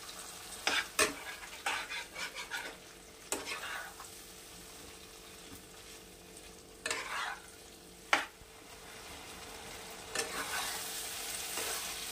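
Mushrooms frying in a pan over a low flame, a steady soft sizzle with scattered scraping stirs and utensil knocks at irregular intervals, close and moderately quiet.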